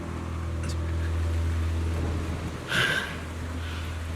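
Rain falls in the Zenless Zone Zero video game as a steady hiss over a low constant hum, with a brighter splash or gust bursting in near the end; no one speaks.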